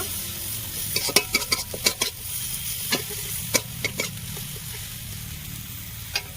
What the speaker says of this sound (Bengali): আদা বাটা মশলা আমি ভালো করে একসাথে নাড়াচাড়া করে নেব